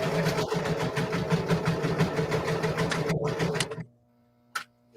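A sewing machine runs fast and steady through fabric for several seconds with a dense rhythmic whir, then stops abruptly, leaving near silence broken by one brief click.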